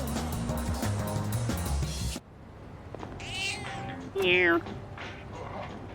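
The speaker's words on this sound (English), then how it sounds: "Oh, the cat." Cat meows from a cat in the video game Persona 3 Reload, a few rising mewing calls that stand clear after loud game music cuts out, with one strong final meow.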